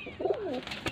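A Faisalabad breed pigeon gives one soft, rolling coo up close, over quiet background noise.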